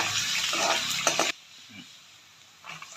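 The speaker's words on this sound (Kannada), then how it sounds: "ಇದು ಸ್ವಲ್ಪ ಚೆನ್ನಾಗಿ ಫ್ರೈ ಆಗಬೇಕು." Garlic cloves frying in oil in a pan give a broadband sizzle with stirring scrapes for just over a second, then cut off abruptly to near quiet before a faint sizzle returns.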